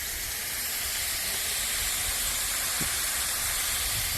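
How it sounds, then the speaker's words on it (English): Spicy country sausage patties fry on a back porch with a broad, steady hiss and sizzle that stays loud and unbroken throughout. "Got all my spicy country sausage patties here flattened out, and starting to cook these up"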